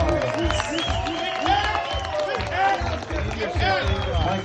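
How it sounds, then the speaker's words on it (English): Wedding guests applaud the best man, a round of clapping mixed with crowd murmur, while voices chatter and call out over it at fairly close range. "Please give Mike a round of applause."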